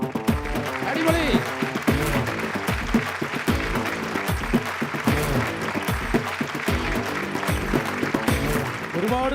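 A studio audience claps loudly and steadily through a Malayalam TV game show, a dense continuous wash of applause with a few faint voices mixed in.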